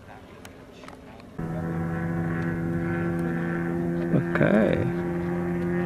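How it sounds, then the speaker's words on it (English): Radio-controlled tow plane for aerotowing large scale gliders descending past at an RC club field, a steady droning engine hum that swells slightly louder as it nears, with a short spoken word over it. "Alright, here comes the tow plane coming down."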